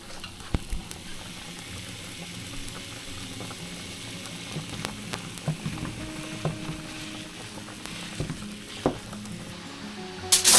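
Grass-fed ground beef frying in a pan gives a steady, moderately loud sizzle with scattered pops and crackles throughout, and no one speaks.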